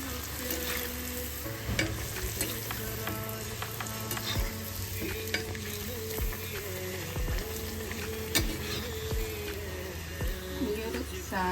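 Pathal dough fries in a pan with a loud, crackling sizzle. Frequent pops and spatula scrapes punctuate the sizzle, and a voice is faintly present underneath.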